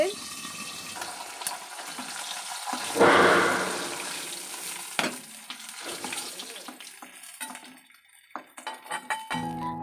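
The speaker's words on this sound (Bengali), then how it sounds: "আগে মাছটা ভেজে নিই।" Fish pieces fry in hot oil in a blackened wok, with a sharp burst of sizzling and spitting, scattered pops and clatter, and someone talking over the kitchen sounds.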